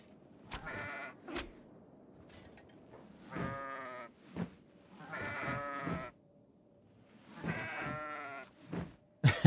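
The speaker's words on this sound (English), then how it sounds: "all right, so the goats are here" Goats in the video game Kenshi bleat in several separate calls, some short and some drawn out, spaced across a quiet background with no talk.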